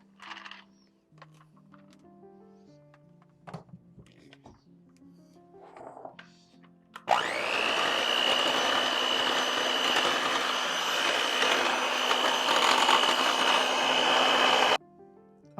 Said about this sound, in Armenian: և սա պետք է հարենք արդեն միքսերով